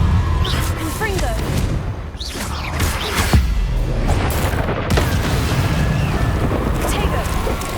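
The Confringo fire spell in the video game Hogwarts Legacy sets off repeated booming explosions and crackling blasts. They sit among dense, continuous game sound effects and music.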